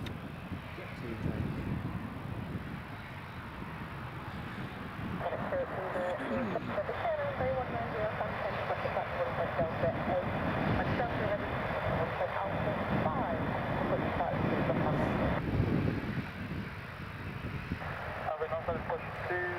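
Jet2 airliner taking off at Newcastle Airport in a crosswind, a steady loud engine roar that swells and holds for the length of the climb, with some wind noise and voices talking over it.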